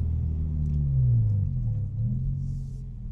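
Low-riding Subaru car cruising on the road, a steady close engine rumble swelling and easing with throttle, no voices.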